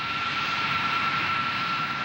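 A Boeing KC-135E Stratotanker's re-engined jets give a steady, loud, close roar with a high whine held throughout, no other sounds.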